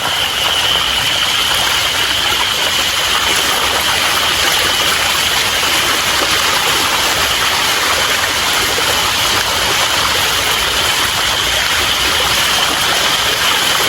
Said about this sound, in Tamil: வெள்ளம் வந்து கொண்டே இருக்குது